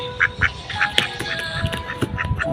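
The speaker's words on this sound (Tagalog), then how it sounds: "Ang itik makulit" A pet duck quacking repeatedly and close by in a home setting, a quick run of nasal quacks over a quiet background.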